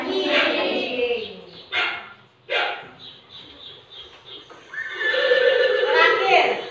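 A horse neighs and whinnies in two loud bursts at the start and end of the clip, with a shorter call in between, presented as an animal sound for children in a school lesson.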